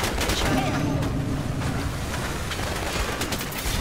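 Rapid gunfire from the Gigantic video game, a dense, continuous rattle of shots that stays loud and near throughout, with a voice speaking over part of it.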